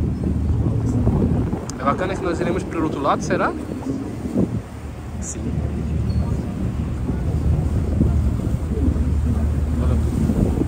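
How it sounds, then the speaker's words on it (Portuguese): Wind buffets the microphone on a Seine river cruise boat in Paris at night, a loud continuous rumbling roar with a low engine hum beneath, while people talk over it. "agora tá no sentido do vento, bem na minha cara, no meu focinho"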